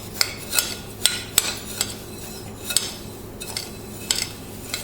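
Panko breadcrumbs are stirred into melted butter, a soft gritty rustle broken by irregular, sharp clinks of a utensil against the bowl, close and with no talking.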